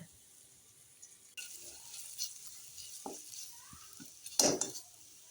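Dried prawns fry in a pan as they are stirred, with a soft steady sizzle under intermittent scraping and clinks of a utensil against the pan, ending in a louder clatter.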